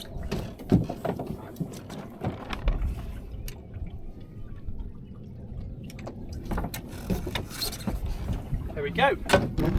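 A sailboat running wing on wing in light air pushes through water with a soft, steady swish and gentle slapping, mixed with rigging creaks and rattles, while people talk intermittently nearby.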